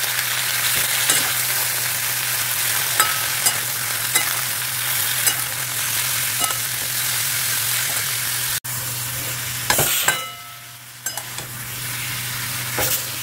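Eggplant, pointed gourd, beet and tomato curry cooking in a pan, a steady close sizzle with stirring scrapes throughout, briefly quieter near the end.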